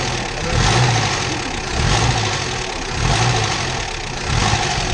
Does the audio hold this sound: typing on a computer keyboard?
no